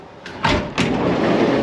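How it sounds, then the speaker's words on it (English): The sliding door of a Volkswagen bus rolls open with two quick scraping, rattling strokes close by, followed by a steady rumbling hiss that continues loudly to the end. "doors open"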